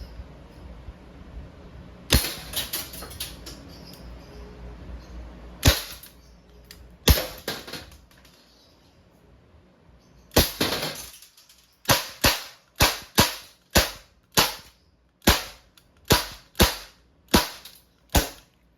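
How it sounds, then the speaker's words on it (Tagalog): An Umarex Colt Defender non-blowback airgun pistol fires a series of sharp, snappy cracks, first sparse, then a quick regular run of about a dozen shots, close and alone. "Testing po, Colt Defender non-blowback airgun pistol."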